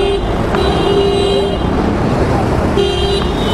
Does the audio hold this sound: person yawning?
no